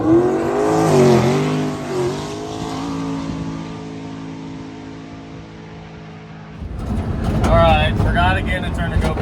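A drag race car makes a pass, its engine droning loudly, then a sharp burst of revving near the end, with someone talking over the first part.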